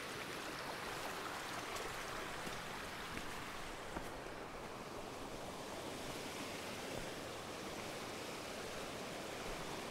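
A creek on the Harding Icefield trail in Kenai Fjords National Park rushes steadily and loudly, a dense, unbroken wash of flowing water close by with no voices.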